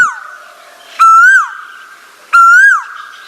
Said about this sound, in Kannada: ಮೊದಲು ಕೂಗಿದ ಹೆಣ್ಣು, ಇದು ಗಂಡು ಕೂಗುತ್ತೆ, ಇದು ಗಂಡು.